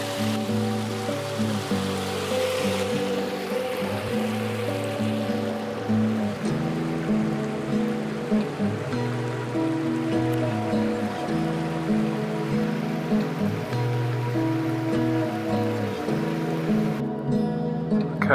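Washing up in running mountain water about 5,000 feet up: a steady, close rush and splash of flowing water that lasts throughout, with sustained tonal sounds beneath it.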